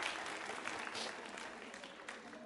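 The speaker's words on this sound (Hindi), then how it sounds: "जोरदार तालियां जोरों से बजाइए उनके लिए भी आप।" A quiz show audience applauds with dense, continuous clapping at moderate distance, holding steady for a couple of seconds and tapering slightly at the end.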